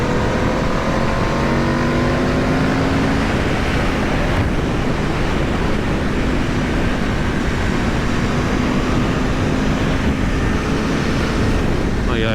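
A 2021 Aprilia RSV4 1100 Factory sportbike being ridden on winding roads, its engine note buried under loud, steady wind roar across the microphone throughout, with faint rising tonal sweeps from the motor.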